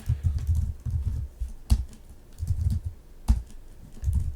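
Someone types a password on a computer keyboard, producing clattering bursts of keystrokes at close range with a few sharper single key hits between them.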